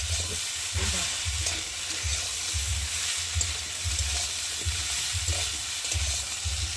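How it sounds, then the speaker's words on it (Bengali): Soya chunks and potatoes with spices being stir-fried in a pan, a steady hiss of frying with regular scraping thuds as the mixture is turned, close and continuous. "দেখো এইভাবে এইভাবে নেড়ে তারপর একটু সময় নিয়ে কষিয়ে নেব"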